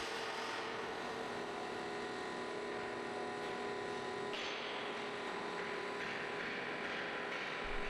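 Heavy hydraulic plate rolling machine bending an extremely thick steel plate, a steady dense mechanical roar with grinding, rumbling texture and a few sharper metallic shifts, continuous and fairly distant throughout.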